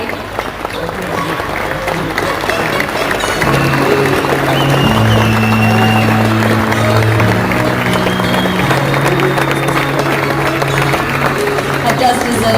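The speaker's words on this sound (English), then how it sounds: "That does deserve a massive round of applause" An audience at the Cricket South Africa Awards breaks into loud, sustained applause, with continuous clapping throughout and background music or tones rising partway through.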